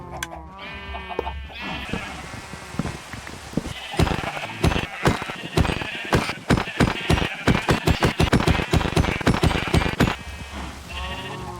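Many Minecraft sheep bleat over one another in a dense, loud, overlapping chorus, starting sparse and building into a rapid run of close bleats with a few clicks mixed in.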